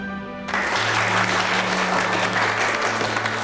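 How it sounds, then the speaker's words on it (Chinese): A crowd breaks into applause after a lawyer's speech in a Chinese legal drama. Dense, even clapping begins abruptly after a brief voice and stays loud to the end. "先别鼓掌"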